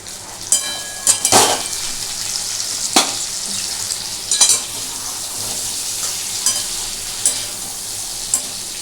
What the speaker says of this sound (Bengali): সুন্দরভাবে পেঁয়াজ এবং কচুটা খুব ভালো ভাজা হয়ে গেছে। এবার আমি যেটা করবো, এর মধ্যে আমি দিয়ে দেবো টমেটো।